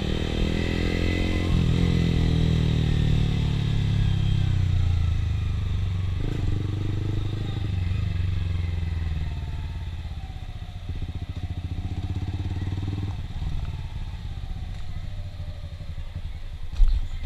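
A Yamaha TFX150 motorcycle with a loud aftermarket exhaust riding through Saigon streets at night, a continuous throaty engine drone with rising and falling revs as it accelerates and shifts, close and loud.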